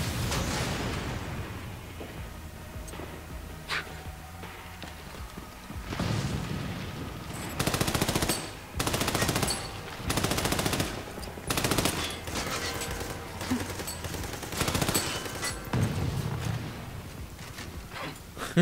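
Bursts of automatic gunfire from the video game Army of Two: The Devil's Cartel, loud rattling volleys in several separate bursts with short gaps between them.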